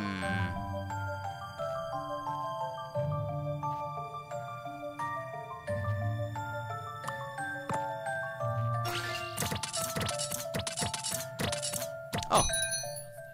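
Bell chimes from a puzzle in Professor Layton and the Miracle Mask on the 3DS, bright ringing tones over gentle game music, growing into a busier cluster of chiming hits toward the end.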